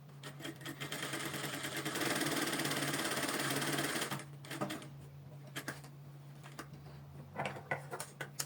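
A sewing machine stitches a small test piece of fabric with a fast, even mechanical whirr lasting about four seconds. Scattered clicks and light handling noises follow as the fabric is adjusted.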